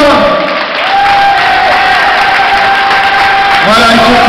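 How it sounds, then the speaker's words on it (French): A crowd at a regional dance team selection competition applauds and cheers the dancers after a western-themed routine, loud and sustained, with a few shouts and voices rising over the clapping. "On peut encore les applaudir"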